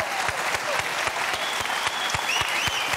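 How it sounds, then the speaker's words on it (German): A TV studio audience on the talk show Riverboat gives sustained, dense applause with scattered sharp claps standing out, loud and close, and no speech over it. "Wir lassen Sie erstmal den Applaus"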